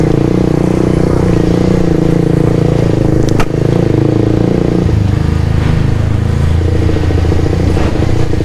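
A Suzuki GSX-R 150 motorcycle ridden on the road toward Lembang, its engine droning loud and steady with wind rush, a brief clatter midway and a drop in engine pitch as the rider eases off.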